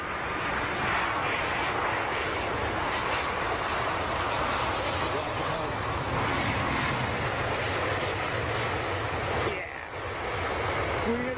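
Boeing 747 jet arriving on runway 27R at London Heathrow, a broad steady roar of engines and rushing air holding loud throughout, with a brief dip near the end.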